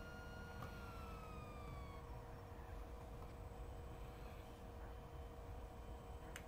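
Police car sirens in the video game GTA V wail faintly in the distance, with falling electronic tones at the start over a steady low rumble of background noise.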